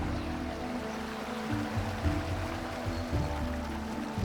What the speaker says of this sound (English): Amidst the sound of the waterfall